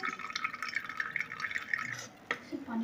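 Water draining off boiled papaya in a kitchen, a light splashing trickle with small drips and pouring sounds, fairly close and moderately quiet.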